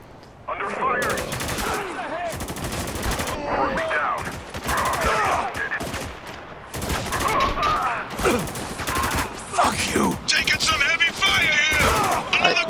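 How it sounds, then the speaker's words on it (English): Gunfire in the video game Spec Ops: The Line crackles in rapid automatic bursts and dense volleys that fill the scene, with in-game voices shouting over the shooting. "You're taking heavy fire?"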